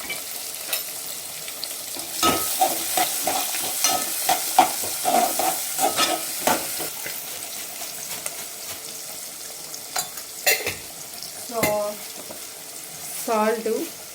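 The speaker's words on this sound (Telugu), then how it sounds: "ఇప్పుడు ఆనియన్స్, ఇవి బాగా వేయించాలి" Onions frying and being stirred in a pan, with steady close sizzling broken by repeated scraping and clinking strokes, and a few short bursts of running water near the end.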